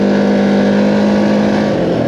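A Can-Am Outlander Pro Hunting Edition ATV engine runs loud and steady while riding, a constant droning hum with a strong low tone that holds evenly throughout, no voices over it.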